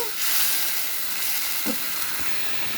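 Masala for beef and potato curry fries in a pot with a splash of warm water, making a loud continuous hiss and sizzle with a couple of faint stirring knocks, close up and without speech.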